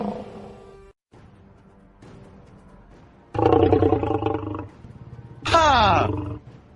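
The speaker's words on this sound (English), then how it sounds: "The lion rushed out and bounded towards its victim." Cartoon lion roaring as it bursts from an iron cage into an arena, two loud roaring bursts after a quieter stretch of background sound and music.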